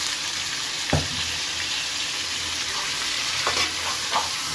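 Potatoes and drumstick pieces stirred into a pot of rui fish curry, a steady frying sizzle with a few sharp scrapes of a spoon against the pot, close and continuous, no talk.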